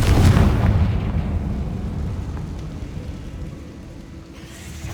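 A Confringo fire spell explodes in the Hogwarts Legacy video game with a deep, loud boom at the start, then a long rumbling roar that slowly fades.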